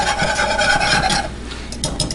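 A spoon scrapes and rubs briskly through a bread pudding mixture with vanilla in a bowl, a close, continuous gritty stirring that grows sharper toward the end.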